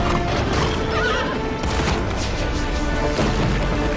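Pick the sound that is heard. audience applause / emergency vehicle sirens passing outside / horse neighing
horse neighing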